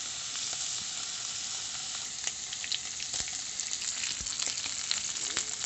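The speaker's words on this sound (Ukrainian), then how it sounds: "я беру оце салко і зараз його підсмажу" Steady, loud sizzling of pork fat frying in a hot pan, with crackles and small pops over a constant hiss, close up and without speech.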